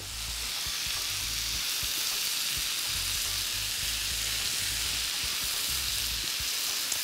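Courgette and bell pepper fry in a hot pan, a steady close sizzle with continuous hiss and crackle throughout, occasional soft low bumps from stirring underneath.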